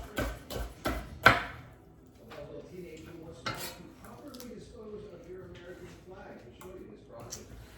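Smoked sausage and peppers are mixed in a pan on a Weber SmokeFire EX6 grill. A few sharp metal clanks of a utensil against the pan open the sequence, then softer shuffling and scraping continues beneath a man's speech.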